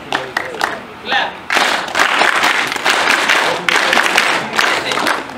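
A workshop group claps hands together in rhythm, several loud bursts of many hands striking in unison, broken by brief quieter gaps where a voice gives the count.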